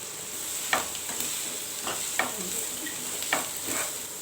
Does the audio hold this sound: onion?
yes